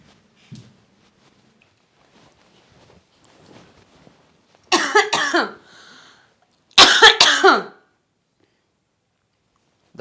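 Two loud, close bursts of harsh coughing from a person at home, each lasting under a second, with only faint quiet movement beforehand and no talking.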